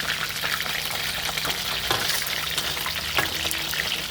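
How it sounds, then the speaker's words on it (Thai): Fish frying in hot oil until crispy gives a dense, continuous crackling sizzle with scattered pops, loud and close throughout. "เราก็ทอดให้มันกรอบ ๆ"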